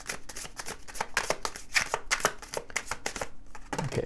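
Tarot cards shuffled close up in a steady riffling flutter of rapid papery flicks with brief pauses, ending in a soft thud, no talking over it.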